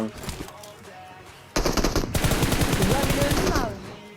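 Rapid automatic gunfire rattles in the mobile battle royale game PUBG Mobile, a short burst followed by a louder sustained stream of shots lasting about two seconds, close and dominant.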